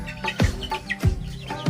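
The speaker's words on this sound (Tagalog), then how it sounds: "Ayan po ang aking dalawang inahin." Hens cluck in low, repeated bursts, several calls in a loose rhythm, close by.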